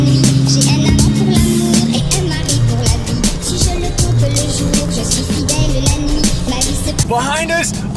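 A Lamborghini Huracan Performante engine drones steadily in a snowstorm as the car tows snowboarders, its low hum continuous beneath dense clatter and voices throughout.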